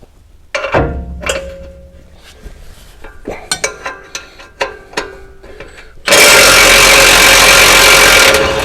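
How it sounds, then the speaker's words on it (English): Bottom bolt being removed from a RAM 1500 rear shock: scattered metallic clanks and thunks of tools on hardware, then a sudden loud, steady whir of a power tool running for the last couple of seconds. "Now I'll go ahead and get this bottom bolt out."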